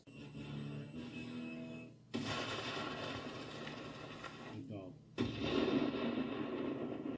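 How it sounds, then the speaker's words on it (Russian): An oxygen cylinder explodes after ignition, heard as two sudden loud bursts a few seconds apart, each followed by a sustained roaring blast before cutting off abruptly. "Посмотрите, как взрывается баллон с кислородом в результате воспламенения."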